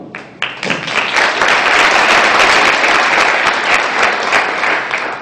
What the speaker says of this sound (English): there was a tremendous round of applause to the winners